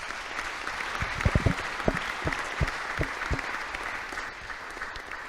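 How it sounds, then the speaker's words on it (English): An academic audience applauds the panelists at the close of a university forum on academic freedom, a full round of clapping that rises, then thins and tails off. "let's give a round of applause to our panelists"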